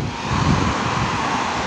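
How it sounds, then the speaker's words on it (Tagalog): Strong wind rushing past while riding along a highway toward Tagaytay, a loud, steady broadband roar that swells slightly midway, with no talk. "Tapos malakas yung hangin"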